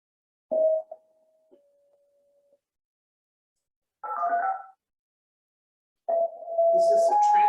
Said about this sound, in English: These are our tones to activate each station.